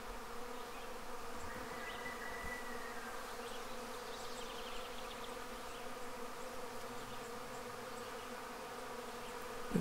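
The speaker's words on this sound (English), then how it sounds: "that's a native bee. That is a solitary bee." A native solitary bee buzzes among Washington hawthorn blossoms, a steady close-up drone that holds without a break for the whole stretch, with no voices over it.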